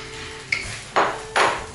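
Pork being tossed into a pan with noodles and stir-fried, a light metallic ping followed by two scraping stirring strokes against the pan, close and moderately loud.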